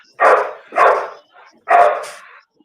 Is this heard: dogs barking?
yes